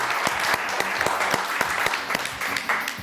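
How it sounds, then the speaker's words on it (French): Studio audience applause for presenters on a French weekly news-comedy show, a dense steady patter of many hands with a few sharper individual claps standing out, loud and close throughout. "On les applaudit très très fort"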